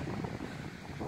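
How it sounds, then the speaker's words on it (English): Steady, rushing wind on a coastline along the Cleveland Way in England buffets the microphone with a low, continuous roar, with no voices. "It's quite windy today on this coastline,"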